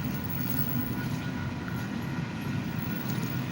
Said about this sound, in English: this train over here